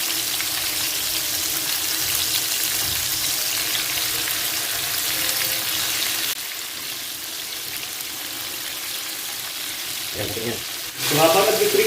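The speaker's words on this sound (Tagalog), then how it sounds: "habang piniprito natin yan" Continuous crackling sizzle of fish fillets frying in hot oil, close and steady, with some clattering sounds toward the end.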